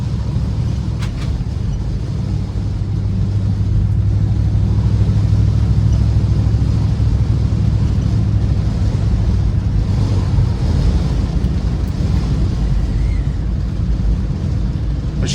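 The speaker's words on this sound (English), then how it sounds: "You're going to hear some wind noise." Wind noise inside a moving 1951 Ford Victoria with a 3-speed manual transmission and worn seals, a loud, constant low roar of rushing air and road rumble that continues for fifteen seconds without talk.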